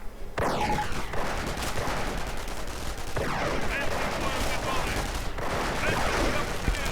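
Submachine gun and rifle fire rattles through a WWII strategy game battle, with Volksgrenadiers armed with Sturmgewehrs facing Soviet conscripts and shock troops. Dense, overlapping bursts and single shots crackle continuously with no letup.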